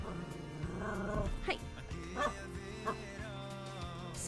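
Puppy barking and yipping indoors, a few short high barks and whimpers spaced across the stretch, fairly faint under game audio, with someone briefly speaking.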